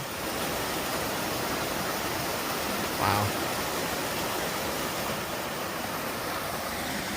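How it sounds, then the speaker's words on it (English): Comer Creek Falls in the Appalachian highlands near Grayson Highlands, running low after little rain: a steady, broadband rush of falling water, close and constant, with a single brief exclamation partway through. "some really great falls here. Comer Creek Falls."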